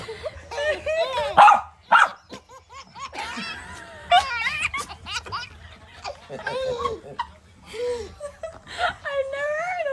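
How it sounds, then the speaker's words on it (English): A dog barks and whimpers in short, close bursts scattered through the clip, mixed with a baby's laughter and people talking over it. "Don't bark, no barking."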